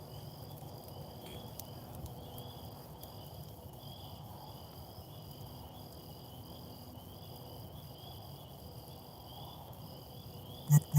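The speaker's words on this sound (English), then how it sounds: "I really hope y'all can hear the crickets." Crickets chirp continuously in a steady, high-pitched chorus, moderately faint, with a low background hum and a short knock at the very end, outdoors by a burn barrel.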